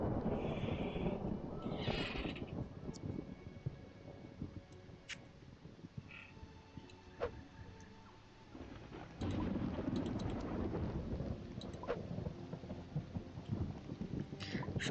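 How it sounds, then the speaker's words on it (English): A thunderstorm with rain in the game Creatures of Sonaria: continuous patter of rain with low rumbling thunder that swells again later, plus scattered chirps and game tones layered over the storm. "Wow, we're in a thunderstorm."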